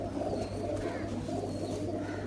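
Pigeons coo softly and steadily at a loft where crossbred birds are kept, with a low continuous murmur of calls and no voices over it.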